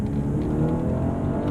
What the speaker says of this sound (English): you can hear the engine when you put your foot down there